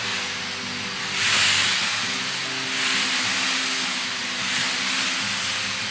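A Shark Steam Mop Pro gives off a steady, loud steam hiss while mopping fast, with the hiss swelling in a few broad surges over a constant low hum.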